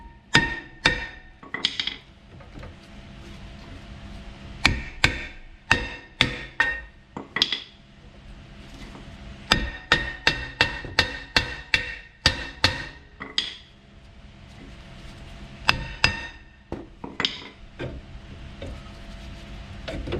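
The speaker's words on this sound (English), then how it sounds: "Tap on it on this side over here, loosen it up." A hammer taps a brake rotor on a Jeep Grand Cherokee to loosen it, dozens of sharp metallic strikes in quick irregular clusters with brief pauses, loud and close, no speech.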